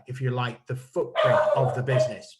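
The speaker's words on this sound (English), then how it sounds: "I apologise for my dog." A dog barks and yips close by, mixed in with someone speaking over it, the short bursts overlapping his steady talk.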